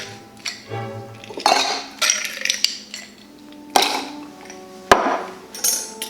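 Ice cubes drop into an Old Fashioned cocktail glass, giving a handful of sharp, close clinks and knocks spaced out over a few seconds, with quiet pauses between them.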